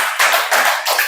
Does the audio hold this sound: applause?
yes